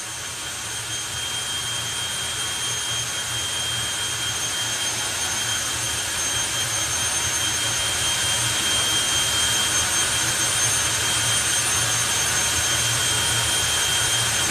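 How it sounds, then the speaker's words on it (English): The Fire Force 5 jet car runs its afterburner show at a Bug Jam drag racing event. A loud, continuous jet roar holds steady throughout. "Martin Hill with Fire Force 5, the Afterburner show. Here we go."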